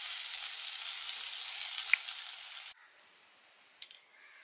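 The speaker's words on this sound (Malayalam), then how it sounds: "കണവ ഫ്രൈ എവിടം വരെയായി നമുക്ക് തുറന്നൊന്ന് നോക്കാം" Squid frying in a covered pan for Kerala-style kanava fry, a steady close sizzle that cuts off abruptly midway, leaving a quiet hiss and a couple of faint clicks.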